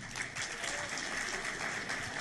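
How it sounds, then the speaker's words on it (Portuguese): Audience applause for teachers at a nutrition and health talk, a steady continuous wash of clapping at moderate level with faint voices mixed underneath. "Os professores estão de parabéns, uma salva de palmas."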